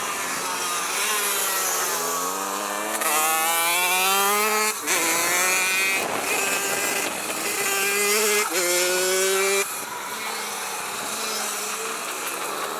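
A small CR85 motocross-style motorcycle revs hard through its gears during a supermoto race, engine pitch climbing and dropping in repeated shifts, loud and close on an onboard ride.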